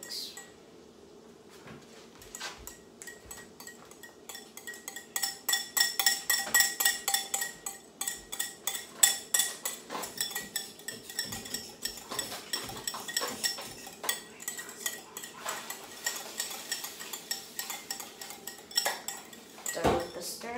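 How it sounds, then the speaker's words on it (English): A utensil stirring a chocolate mixture in a bowl, clinking and scraping in an irregular, steady rhythm for most of the time, close but fairly quiet, with no talking. "Done with the stirring."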